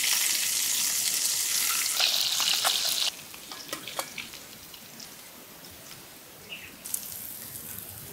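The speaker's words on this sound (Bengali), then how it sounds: "মাছ ভাজার জন্য একটু তেল দিয়ে দেব" Native koi fish fry in hot oil with a loud, dense sizzle that drops to a quieter crackle partway through, with scattered pops and spits continuing to the end.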